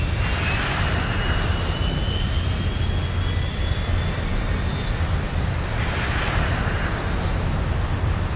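Airliner jet engines roar during the takeoff run, a steady loud broadband rumble with a faint rising whine, heard from inside the cabin with no talking.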